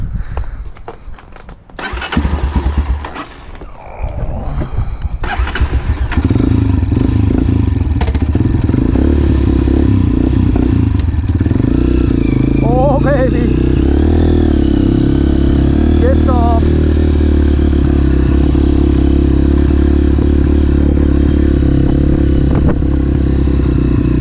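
A 2017 Honda CRF230F dirt bike engine starts up and settles into a steady, loud idle close by, with brief revs and some clatter over a continuous low drone.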